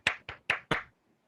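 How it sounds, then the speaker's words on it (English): Four separate, evenly spaced hand claps, close and crisp, from a single person rather than a full audience at a Toastmasters club induction event, with no talk over them. "Let's give her a round of applause."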